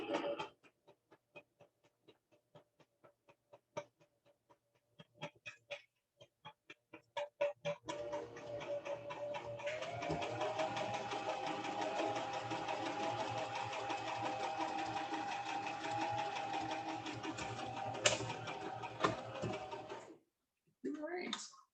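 A sewing machine stitches a doll's witch cape in a steady mechanical run of about twelve seconds, after scattered taps and handling sounds and before a stop and a few final clicks.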